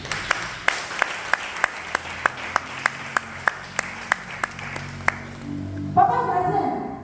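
People in a church clap in a slow, steady beat of about fifteen distinct claps, moderately loud. A voice then starts speaking over the last seconds.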